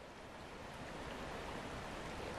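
Steady, broad rushing of flowing river water, continuous and even throughout with no other sounds.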